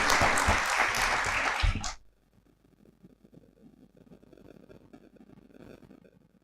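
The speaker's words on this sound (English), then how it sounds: "Let's have a huge round of applause for him." Enthusiastic applause from an audience fills the first two seconds, then cuts off abruptly, leaving quiet room noise.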